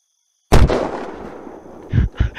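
A loud sniper rifle shot in the video game Unturned, one sharp blast with a long rolling echo, followed by two more heavy thumps near the end.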